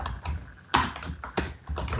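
Typing on a computer keyboard during a programming lesson, a close, steady patter of key taps with a few louder strikes, heard alone.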